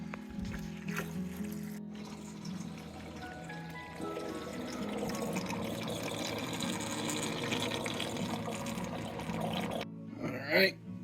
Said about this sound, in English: Get this drained down here a bit more